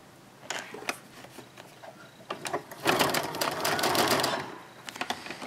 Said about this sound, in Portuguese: E só vou costurar aqui onde tá vincado